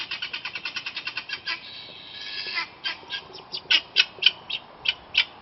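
A guinea fowl calling nearby: a long run of rapid, rhythmic harsh cackles, briefly merging into a sustained screech before continuing as spaced, louder pulsed calls.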